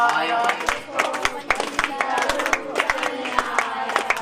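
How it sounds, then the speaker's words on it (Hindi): An audience claps in steady rhythmic time along with a devotional bhajan at a Mata ka jagran, loud and close, with music and singing mixed under the beat. "ताली बजाएंगे।"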